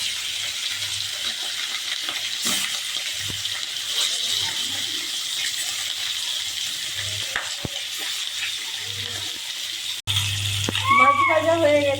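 Pieces of rohu fish fry in hot oil in a wok, a steady hiss with faint clinks and scrapes, turning louder and crackling as more fish drops in near the end.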